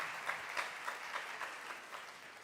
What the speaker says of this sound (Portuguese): Aplauda aí o Senhor pela vida desse homem.